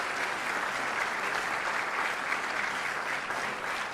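A choir applauding at an official event attended by the President of the Republic, Mattarella; steady, dense clapping fills the whole stretch at an even level, with no voices standing out.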